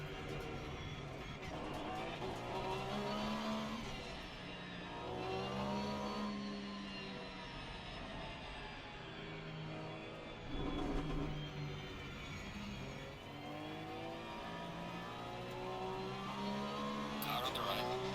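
Race car engines roar continuously in Assetto Corsa Competizione with about two dozen cars on track, a steady mid-loud drone with shifting pitch as the cars accelerate and pass, under occasional spoken commentary.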